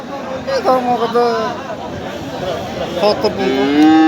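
Friesian heifer cattle lowing at a busy livestock market, with several drawn-out moos rising over steady crowd chatter and nearby voices.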